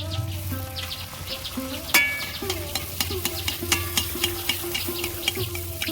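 Bhature fry in hot oil with a soft sizzle and bubbling under repeated metal ladle scrapes and clinks, a sharp knock near the start, then rhythmic stirring taps.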